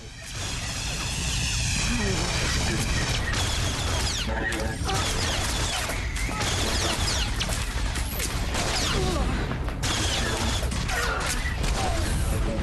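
Droids cutting through a door aboard the Black Talon in Star Wars: The Old Republic: a loud, continuous mechanical grinding and crashing din with scraping, whooshing bursts, dense and unbroken throughout.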